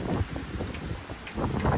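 Strong, gusty wind buffets the microphone in a steady rumbling roar with surging rises and dips, heard outdoors near a pigeon loft on a very windy day.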